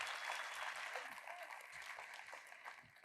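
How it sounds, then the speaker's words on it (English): An audience applauds Mason Brains at the Fund Launch Live 2023 event: a dense, steady wash of clapping with no pauses, fairly soft and somewhat distant throughout. "If you guys can give a huge round of applause to Mason Brains"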